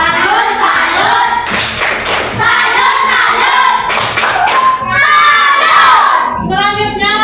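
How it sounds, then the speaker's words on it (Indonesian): Schoolchildren in a classroom clap and cheer for the first group after its performance, a loud, dense burst of hand claps mixed with excited shouting that swells and continues for several seconds. "tepuk salut untuk kelompok 1 dulu"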